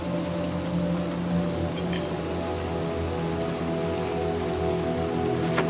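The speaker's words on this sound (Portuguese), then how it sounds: "Mó chuvão, velho." Heavy rain in the video game Little Nightmares II pours steadily on surfaces, a dense constant hiss with a low hum underneath, no voices.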